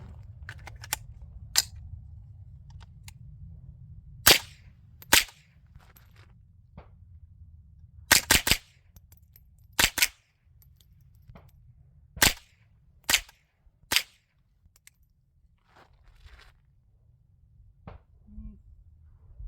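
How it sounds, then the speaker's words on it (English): Suppressed .22 rifle fired with Federal bulk ammunition through a Huxwrx Flow Ti suppressor: about ten sharp, dry cracks at irregular intervals, close and distinct over a low steady rumble. "Again, I'm shooting the Federal bulk ammunition."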